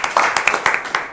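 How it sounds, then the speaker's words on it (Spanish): A brief burst of audience applause rings out at a teachers' union gathering, with scattered quick claps over about a second that fade toward the end. "bueno, vamos al aplauso"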